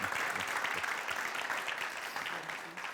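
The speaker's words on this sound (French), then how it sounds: "Merci de faire beaucoup d'applaudissements pour lui." A studio audience applauds a reggae musician on a Burkinabe television variety show: steady, dense clapping that holds at an even level for the full length, with no voices on top.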